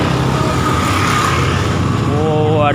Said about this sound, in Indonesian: Jalan raya rame.